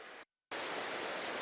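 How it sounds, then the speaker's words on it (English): A small waterfall makes a steady broadband rush of falling water, loud and close, cut by a brief silent gap before the roar resumes unbroken. "Little waterfall on the way"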